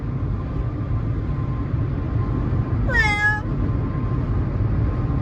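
A single short cat meow rises clearly over a constant low rumble of background noise, heard close and alone.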